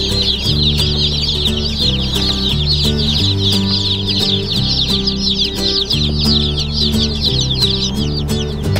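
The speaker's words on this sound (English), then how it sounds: "We're driving back right now to go unload the baby chicks." Baby chicks peep constantly and loudly in a box during a car ride home from the post office, with dense overlapping chirps over a low, steady vehicle drone and no talking.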